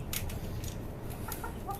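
Tiger and desi chickens cluck softly in cages on a rooftop farm, a few brief calls over a low murmuring background, close by and fairly quiet.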